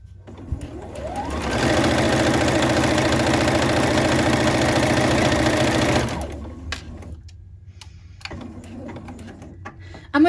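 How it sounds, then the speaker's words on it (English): A sewing machine runs an overcast stitch along a scarf seam, a loud steady whirring hum that starts, holds for about four seconds and stops, followed by soft handling clicks. "I'm going to go ahead and overcast this"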